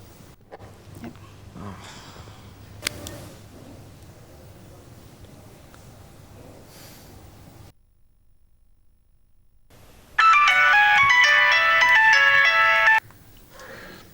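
Telephone ringtone in a drama scene, a loud electronic melodic ring lasting about three seconds after a stretch of quiet room tone and a pause, with brief talk earlier.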